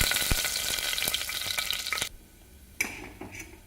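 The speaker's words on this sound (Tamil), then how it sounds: "எண்ணெய் சூடாகிடுச்சுங்க. கொஞ்சம் பெருஞ்சீரகம் சேர்த்துக்கலாங்க." Fennel seeds dropped into hot oil sizzle loudly and densely for about two seconds, then fade to a quieter crackle with one brief flare of spitting near the end.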